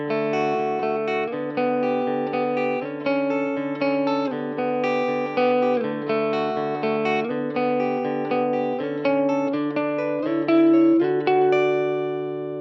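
Guitar playing a chord progression over a sustained pedal tone with sixth intervals, ringing chords changing steadily for several bars at an even moderate loudness, with no talking.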